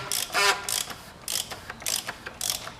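A ratchet fitted with a 15/16 socket loosens the oil filter housing on a 3.6-liter Jeep Grand Cherokee, giving loud, close bursts of rapid metallic clicking in several quick strokes, with no voices.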